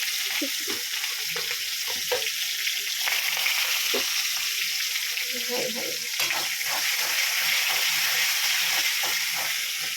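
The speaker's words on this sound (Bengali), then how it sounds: "এরকম করে নাড়তে হবে গ্যাসটাকে একটু স্পিডে দিয়ে এমনি করে তেলের মধ্যে দিয়ে ওলট পালট ওলট পালট" Chicken pieces for a home-style chicken kosha being stirred and tossed in hot oil over a high gas flame: a steady, loud frying sizzle with irregular scraping and clattering stir strokes throughout, no talking.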